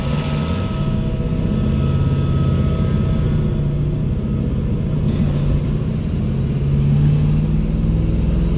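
An MG Magnette ZB V8 coupe drives through city traffic in daylight amid construction, its engine a steady low rumble heard from inside the cabin throughout, with no talk.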